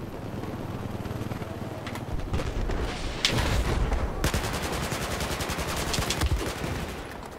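Dense, continuous gunfire from a Battlefield 4 multiplayer Rush match at Dawnbreaker, heavy automatic fire layered with booms and a constant rumbling battle din, loud and close throughout.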